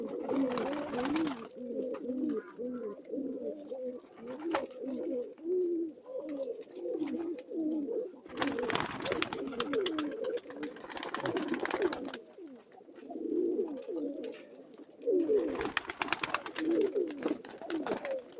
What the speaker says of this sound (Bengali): কবুতরের যে সাউন্ড না আমার এটা অনেক ভালো লাগে